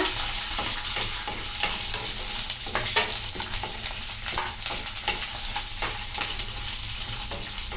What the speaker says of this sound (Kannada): ಆಮೇಲೆ ಕಡಲೆ ಬೀಜ, ಹಸಿಮೆಣಸು, ಬೆಳ್ಳುಳ್ಳಿ ಹಾಕಿ ಸ್ವಲ್ಪ ರೋಸ್ಟ್ ಮಾಡ್ಕೊಳ್ಳಿ